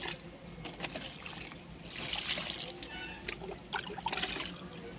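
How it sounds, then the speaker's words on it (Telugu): Liquid fertilizer is poured over the leaves of home garden plants, a close splashing trickle that patters and runs for several seconds, with brief louder bursts. "ఆకులు తడిసేట్టు, మొక్క తడిసేట్టు మనం వాటరింగ్ ఇచ్చుకుంటే"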